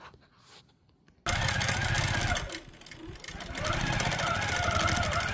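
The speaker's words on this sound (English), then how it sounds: "but I'm going to stitch this out now." A QCT 6 Pro quilting sewing machine stitches out a point-to-point pattern, starting abruptly after a quiet second into a loud, steady mechanical whir that continues close up to the end.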